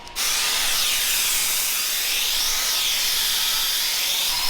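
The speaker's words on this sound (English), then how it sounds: "Then we'll grab the grinder and kind of clean it up" An angle grinder cleans up a weld on an offroad bread van build, producing a continuous loud, high whine with a shifting pitch. It runs alone, with no speech.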